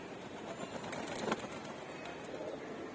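Pigeons in a sky pigeon loft after bathing in the sun give soft, low cooing amid a constant hiss of background noise, with a brief flutter-like rustle near the middle and no voices.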